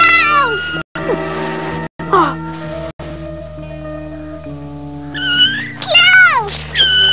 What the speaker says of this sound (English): Give me my kitten back!